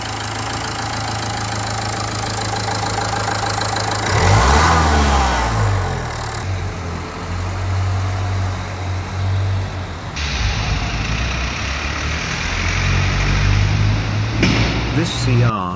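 A diesel car with newly repaired Bosch CRI2 common-rail injectors runs steadily on a road test, its engine droning loud and close with a rise in revs partway through, and road noise underneath.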